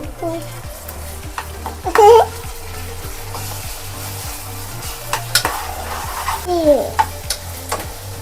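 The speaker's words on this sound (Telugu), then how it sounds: "చెంచాతో కలుపుదామా ఇప్పుడు" A spoon stirs a ginger-garlic mixture in a pan for prawn curry, scraping in a regular rhythm over a constant sizzle, with a couple of brief voices in the background.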